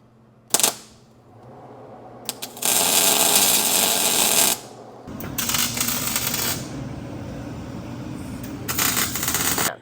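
Tack welds on a roll cage being fitted to a 6x6 truck: a sharp crack, then bursts of loud steady crackling a couple of seconds long, separated by brief pauses.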